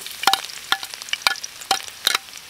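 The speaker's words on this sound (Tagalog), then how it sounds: "Normal na gisa-gisa lang." Beef sautéing Filipino-style in a pan: crisp crackling sizzle with repeated sharp stirring clatters, close and fairly loud, no talk.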